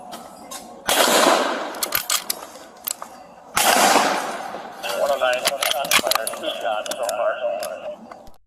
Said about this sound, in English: Both snipers confirm the suspect has a gun, and then both each take one shot